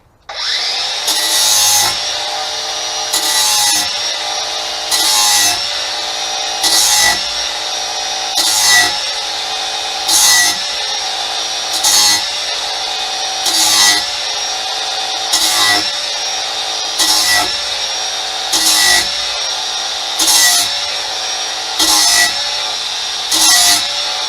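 Mower blades being sharpened with a power tool: a loud, steady grinding whine with rhythmic, repeated passes about every couple of seconds, running alone for the whole stretch.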